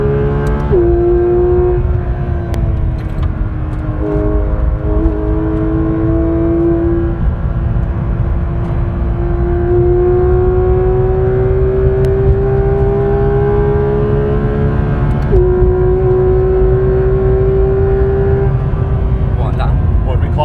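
A loud Porsche GT3 RS engine drones and revs steadily with rising and falling pitch, heard from inside the car at the Nürburgring, with voices talking over it.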